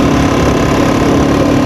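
Rebuilt Honda XR500 motorcycle engine running steadily up close, a loud continuous mechanical drone with a fast, even ticking from the top end.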